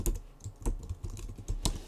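Rapid key presses on a computer keyboard, a run of sharp, uneven clicks and taps at close range with no voices.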